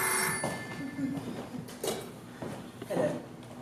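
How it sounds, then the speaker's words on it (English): A telephone bell rings in a radio drama about a dinner party, in short bursts against a quiet interior with faint background voices. "Oh, dear me, the phone."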